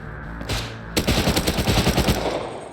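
Automatic gunfire in the survival game Rust: a brief shot, then a sustained loud burst of rapid rounds rattling for nearly two seconds before fading out.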